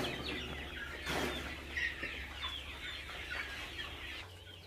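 Chickens at a poultry farm near Azamgarh cluck and call in a steady, moderately close chorus, with occasional louder squawks over a low background hum.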